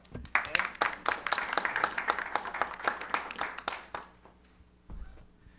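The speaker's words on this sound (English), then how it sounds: "I think you all deserve a round of applause as well." Round of applause from an audience at a talk on organizing college athletes, dense clapping sustained for about four seconds, then fading out, with a brief voice afterward.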